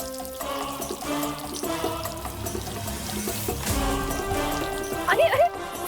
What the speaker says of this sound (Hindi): जी, पौधे को पानी दे रही हूँ।